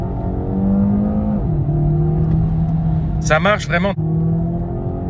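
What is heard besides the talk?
DS4 E-Tense 225 combustion engine accelerating in sport mode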